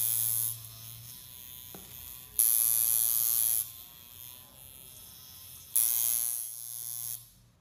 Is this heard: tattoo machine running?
yes